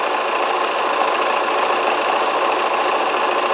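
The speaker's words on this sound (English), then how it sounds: "On the zigzag now, here we go. We're going to do the heart." A sewing machine zigzag-stitches a heart appliqué with an open-toe foot, giving a loud, steady, continuous whir close by with no pauses and no voices.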